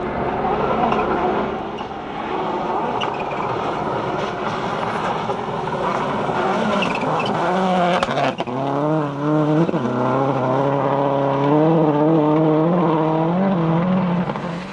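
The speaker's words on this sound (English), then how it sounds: "Andrew Nesbitt in the Cuisine de France Subaru is eventually credited with the fastest opening run" A Subaru WRC rally car races along a stage of the 2000 Summit Rally, its engine roaring and revving loudly through rising and falling gear changes for the whole stretch.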